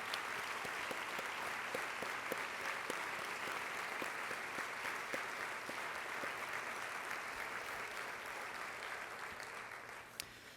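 A large audience at a State of the Schools gathering gives sustained applause for the standing Board of Education. The clapping is steady and fairly distant in a big room and slowly tapers toward the end, with no speech over it.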